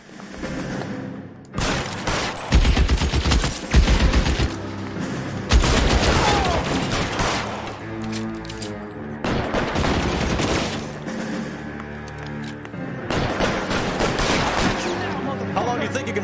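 Gunfire crackles through a shootout in the video game L.A. Noire, with loud bursts of rapid shots and booming blasts coming in waves over roughly sixteen seconds, broken by brief lulls, while a voice speaks between volleys.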